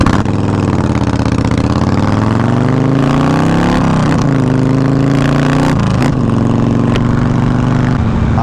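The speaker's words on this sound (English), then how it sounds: "So this is how the pipes sound." A Yamaha Road Star Warrior XV 1700 custom motorcycle's BMS aftermarket exhaust growls loudly up close, revving up and down in several swells with a deep throaty idle between.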